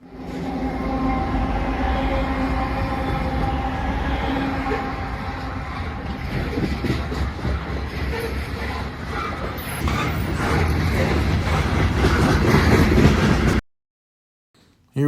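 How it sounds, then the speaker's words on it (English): Norfolk Southern locomotive 1066 leads a loaded grain train past signals, a steady loud roll of wheels and cars with a low engine drone, swelling louder toward the end before cutting off. "caught NS 1066 leading loaded grain train 40Z past those signals"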